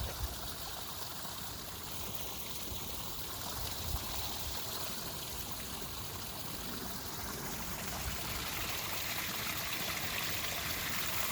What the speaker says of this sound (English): Got a bit of a waterfall going on.